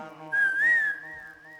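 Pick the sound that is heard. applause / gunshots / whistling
whistling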